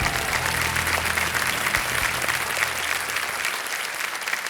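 Steady, dense studio audience applause fills the set of the quiz show Kaun Banega Crorepati Season 14, continuous and fairly loud without talk.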